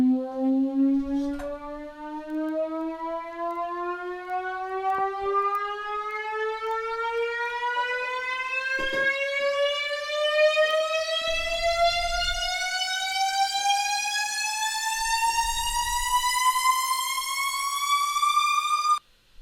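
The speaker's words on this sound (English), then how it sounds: "it's basically a saw wave that basically goes up in pitch, but also as it's going up in pitch, it's becoming more and more detuned" An EDM synth riser built from a detuned saw wave climbs steadily in pitch for about nineteen seconds, growing brighter and more smeared as it rises, then cuts off abruptly; a few faint low thumps sit beneath it.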